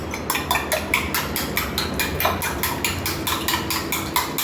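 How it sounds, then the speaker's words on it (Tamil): Eggs are whisked briskly in a bowl, the utensil striking the sides in a steady, rapid rhythm of close, clear clinks with no talking. "இப்போ இந்த எக்கை நல்லா மிக்ஸ் பண்ணிக்கலாம்"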